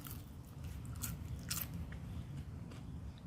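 Close, crisp bites and chewing of crunchy homemade crackers made from broiled Colby Jack cheese slices, with a sharp crunch up front and softer chomping over steady background noise, and no talking.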